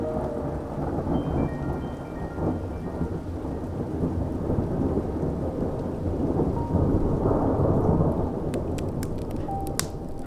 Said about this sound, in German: bis der Regen aufhört.